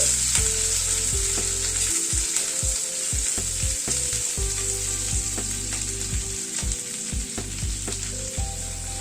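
Diced onion and capsicum sizzle steadily in a hot pan, with a spatula tapping and scraping the pan at irregular moments throughout.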